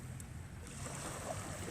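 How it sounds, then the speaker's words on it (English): Waves crashing on the Mississippi Gulf Coast near a pier, a steady broadband wash of surf and wind heard alone, moderately faint and continuous with no clear breaks. "And just listen to these waves crashing."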